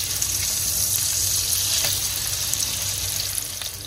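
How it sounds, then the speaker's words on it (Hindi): Surmai fish frying Kokni style in a pan, a steady close sizzle with soft crackle holding evenly throughout, no voices. "सब फिश को पलट लेंगे, दो तीन बार पलट के सेक लेंगे अच्छे से।"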